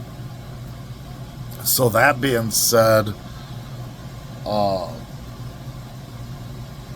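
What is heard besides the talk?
boat engine idling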